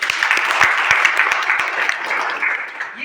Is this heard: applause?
yes